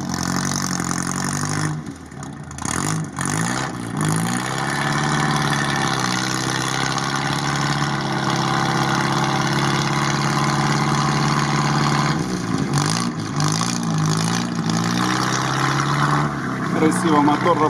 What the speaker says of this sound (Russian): Красиво мотор работает.